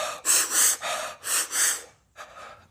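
Holotropic breathwork breathing: a series of deep, forceful gasping breaths in quick rhythm, five strong inhale-exhale bursts close to the listener, followed by a brief pause and a softer final breath.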